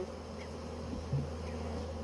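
A continuous low buzzing of honeybees at a hive drones steadily throughout, close and fairly quiet, with no talking.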